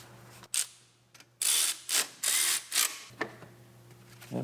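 A ratchet tightens the bolt on a small cover bracket in a Subaru Forester engine bay, making several short bursts of rapid clicking separated by brief pauses, close and clear with no talk.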